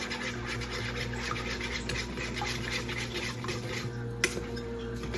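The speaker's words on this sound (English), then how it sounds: "Just going to give that a quick little stir." A spoon scrapes and swirls around a pot of rice as chicken bouillon is stirred in, a soft continuous scratching over a steady kitchen hum, ending with a small knock.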